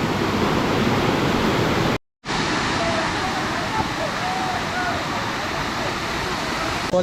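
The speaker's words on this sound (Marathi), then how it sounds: "मित्रांनो आता आपण पोचलो दुसऱ्या वॉटरफॉलला" Waterfall at Morbe dam near Panvel in the monsoon, a steady loud broadband roar of falling water that drops out briefly for a moment before resuming at the same level.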